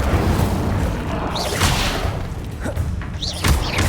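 Repeated fire spell casts in the wizarding game Hogwarts Legacy, a series of whooshing bursts and thuds over a busy, rumbling game background, with sharper flares standing out near the middle and end.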